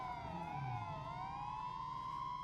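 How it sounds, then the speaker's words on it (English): A police car siren wails in a video game roleplay patrol, its rising and falling tones sounding steady and continuous over a low engine rumble. "Go ahead, kill sirens."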